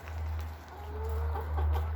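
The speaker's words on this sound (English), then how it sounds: "And there is the chickens." Backyard chickens cluck softly in short murmuring calls against a low steady hum, fairly quiet and nearby with no one talking.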